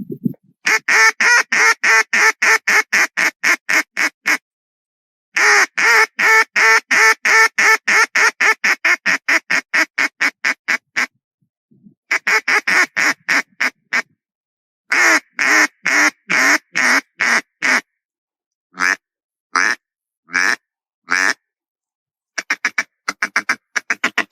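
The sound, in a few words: DJ Rivers 128 single reed wooden duck call, hail calls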